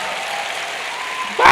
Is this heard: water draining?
no